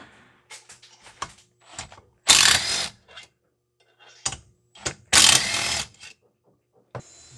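Ratchet wrench loosening the muffler bolts on a Stihl MS271 or Husqvarna 450 Rancher chainsaw, heard as two loud bursts of rapid clicking separated by quieter handling knocks and taps.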